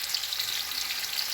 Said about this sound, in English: I let it fry a bit